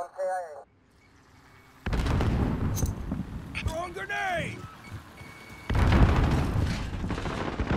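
Booming grenade explosions in a shooter video game, loud broadband blasts that come in bursts alongside gunfire and game effects, with a voice calling out in between.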